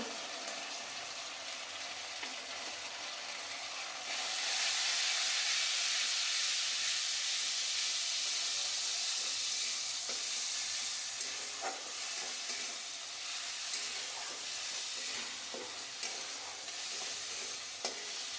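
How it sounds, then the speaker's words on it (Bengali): Ground chili paste and turmeric powder sizzle and fry steadily in a pan, a continuous close hiss that swells louder partway through, with scattered stirring scrapes and clicks. "মশলাটা এরপরে খুব ভালো করে কষিয়ে নেব।"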